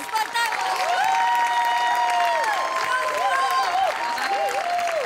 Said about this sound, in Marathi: वनितासाठी एकदा स्पेशल टाळ्या